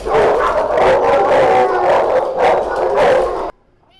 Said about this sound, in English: Just listen to all these happy dogs.